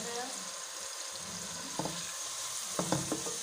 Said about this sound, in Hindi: यहाँ पे मैंने ऑयल में ऐड कर लिया है ऑनियन। अब हम इसे हल्का हल्का फ्राई कर लेंगे